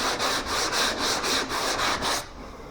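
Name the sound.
sanding a car body panel along a curve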